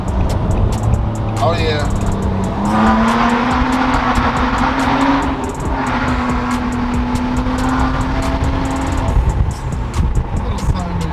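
Loud, raspy exhaust from a 2017 Nissan Maxima with straight pipes, downshifting to second gear and accelerating hard approaching a tunnel, a rising engine note booming close throughout, with a brief voice speaking over it.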